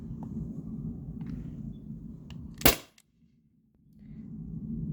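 A single sharp pneumatic shot from a modded T4E HDP50 marker running on an HPA tank, firing steel bearings, cracks loudly once over faint background noise and then goes quiet.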